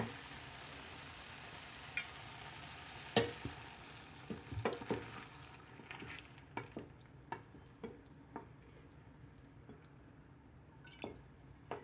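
Okra sizzling and frying in its own juice, a quiet background crackle dotted with many soft pops and drips at an irregular pace, close and faint, without speech.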